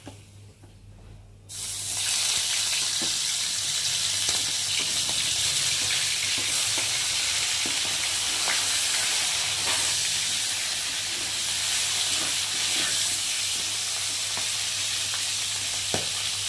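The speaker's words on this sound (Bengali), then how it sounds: "আর এখন আমি মাছের মাথাগুলোকে দিয়ে ভেজে নেব।" Fish heads fry in smoking-hot oil in a wok: after a short quiet start, a loud, steady sizzle and hiss bursts in and holds close and dense throughout, with faint scrapes of stirring.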